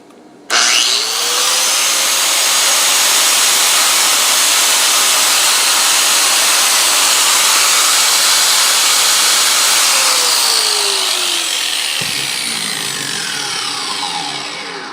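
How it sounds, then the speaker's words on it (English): Angle grinder powered by an EBL EB500 portable power station spins up and runs in a loud, steady, high-pitched whine for about twelve seconds, then winds down near the end, with no talk. "Alright, so now let me turn on the angle grinder again."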